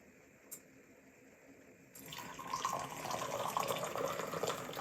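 Taiwan oolong tea poured out from the brewing vessel without a strainer: a steady, fairly close stream of liquid that starts abruptly and keeps flowing to the end, after a quiet stretch at the start.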